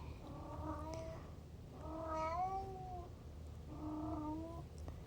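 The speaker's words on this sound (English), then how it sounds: "He's meowing way too much." A cat meows three times in long, drawn-out wails, each followed by a short pause, fairly close in a quiet room.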